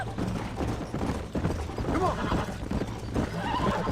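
A horse gallops with dense hoofbeats and neighs in the Red Dead Redemption video game during a close race, with mechanical clatter mixed in and voices speaking over the running hooves.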